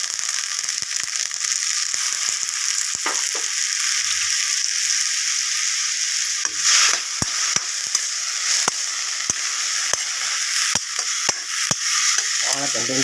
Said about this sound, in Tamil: வாழைத்தண்டும் தக்காளியும் நல்லா வேகணும், நல்லா வதக்கணும்